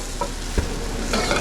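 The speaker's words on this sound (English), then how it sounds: "when it's in the wok, use the back of a ladle to kind of break it up like that" Rice stir-fried in a wok sizzles steadily, with a metal ladle scraping and knocking as it breaks up the grains, close and continuous.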